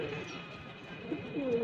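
Pigeon cooing from a tired female caught in a net in the evening, a few soft low coos over a quiet outdoor background.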